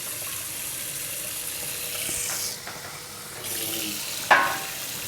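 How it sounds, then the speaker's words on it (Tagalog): Water poured onto a hot outdoor grill to keep it from smoking makes a steady hissing rush with brief pauses, ending in a sharp splash or clatter. "Lagyan ko lang ng tubig para"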